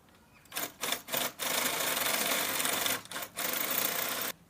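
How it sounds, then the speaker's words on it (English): A power drill with a 25mm countersink bit bores into wood, loud and close, in short bursts at first, then a sustained run, then more short bursts. "Next I'm using a 25mm countersink wooden."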